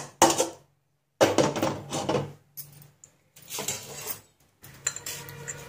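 Dry-roasting peanuts rattle and scrape in a pan, bursts of close clattering rustle separated by short silences as the nuts are stirred and tossed.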